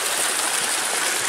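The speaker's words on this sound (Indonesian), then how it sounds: "Ini musim kemarau, tapi airnya tetap mengalir deras." Fast-flowing clear mountain spring water at Curug Tarung waterfall in Temanggung, Central Java, a loud, steady rushing wash that fills the moment without pause.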